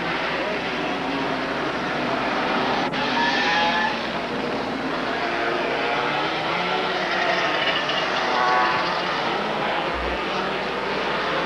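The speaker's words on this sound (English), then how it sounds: "The parade lap for Pro Karts." Pro Kart racing engines drone continuously on the parade lap at the 1993 Dallas Grand Prix, making a loud, buzzing, rising and falling whine as the karts pass.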